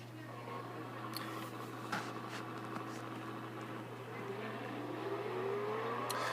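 A Koenigsegg CCXR races around Spa-Francorchamps in Real Racing 3, a steady engine drone over faint background hiss, with a pitch that climbs gradually toward the end.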